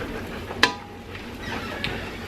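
A utensil stirs cube steak seasoned with salt and black pepper as it sautés in a pan, with a soft sizzle and one sharp scrape or clink against the pan, close by and with no talking.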